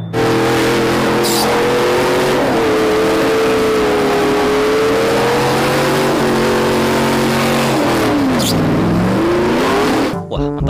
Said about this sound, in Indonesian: Di sini ada mobil off-road